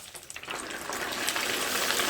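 Steady, dense crackling sizzle of glass noodles deep-frying in hot oil, continuous and close, with no talking.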